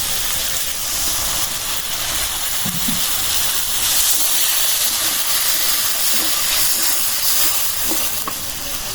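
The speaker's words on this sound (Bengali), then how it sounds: "এখন আর একটু পানি দিয়ে দেবো" Water goes into a pan of frying spices, which hiss and steam loudly in a continuous, close wash of sizzle that holds steady throughout while a fish curry is prepared.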